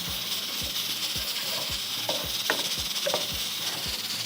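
Tarka fries in a pan with a steady hiss and sizzle, under a regular series of soft low thuds from stirring, close and without talk.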